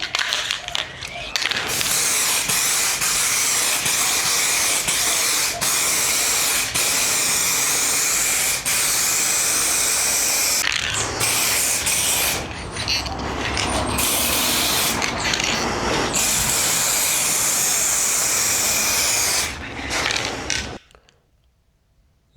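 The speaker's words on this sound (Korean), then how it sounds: "자, 이제 두 번째 들어갑니다." A spray gun lays a second coat of paint in a do-it-yourself paint job. It gives a loud, steady hiss in long passes with short breaks, then stops near the end.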